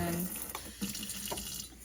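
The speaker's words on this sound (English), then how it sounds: "So I like to do this mode, so it's like a little shower for the rice." Tap water runs steadily over rice being rinsed in a kitchen sink, a close, continuous splashing hiss with slight shifts as the grains are moved under the stream.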